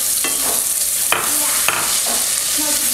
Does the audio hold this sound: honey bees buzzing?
no